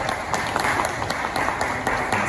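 Conference audience applauding warmly in a hall, a steady dense patter of many hands clapping, moderately loud and continuous throughout with no talk over it.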